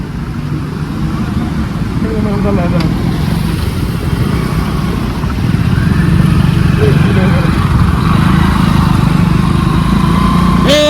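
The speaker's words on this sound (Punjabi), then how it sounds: "ਉਹ ਦੇਖ ਮੋਟਰਸਾਈਕਲ ਕਿੱਧਰ ਦੀ ਆਈ ਜਾਂਦਾਗਾ" A motorcycle engine drones past on a road in Ratangarh, Churu district, Rajasthan, a steady buzzing hum that swells louder in the second half, with nearby traffic and wind noise.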